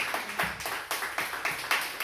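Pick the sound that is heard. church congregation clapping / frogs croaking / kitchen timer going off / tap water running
church congregation clapping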